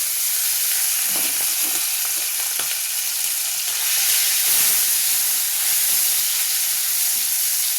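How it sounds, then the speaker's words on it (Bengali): Prawns frying in hot oil, a loud, steady close-up sizzle and hiss that fills the whole stretch with occasional crackles and stirring. "তেলে চিংড়ি মাছটা ভেজে নেব।"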